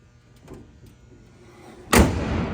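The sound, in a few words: car hood closing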